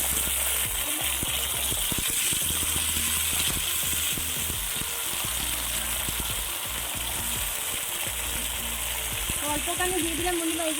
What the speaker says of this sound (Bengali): কড়াইয়ে দিয়ে দিলাম বন্ধুরা এই যে তেল আর তেলগুলোর মধ্যে দিয়ে দিব এই যে ভিজিয়ে রাখা চানা মটরগুলো